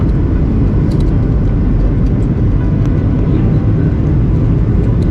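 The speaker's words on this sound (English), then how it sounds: "we are now in the mother city and we are now landing" Steady, loud broadband roar inside an airliner cabin as the plane descends to land at Cape Town, continuous engine and airflow noise throughout with no break or voices.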